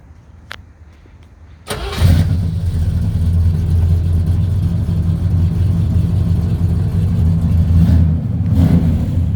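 A 1966 Chevrolet Caprice with a 383 stroker V8 cranks and fires up, then settles into a loud, deep, rumbling idle with a throaty exhaust through open cutouts that holds steady throughout.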